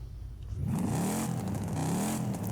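A pickup truck engine in the video game Forza Horizon 5 idles low, then revs up with a rising, wavering roar that dips and climbs again, close and steady, with no voices.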